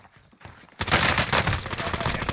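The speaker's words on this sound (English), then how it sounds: "He's shooting at me." Sudden rapid bursts of automatic gunfire erupt from enemies in a battle-royale style shooter game, dense and loud after a quieter opening, continuing as a sustained fusillade.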